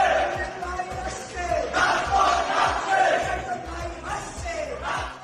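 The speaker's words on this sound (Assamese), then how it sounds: "গৰুলৈ শ্লোগানত মুখৰ মধুৰ কেণ্টিন" A crowd of student protesters chanting slogans in the historic Madhur Canteen, a dense mass of loud overlapping voices in rhythmic shouts, with steady low pulses underneath throughout.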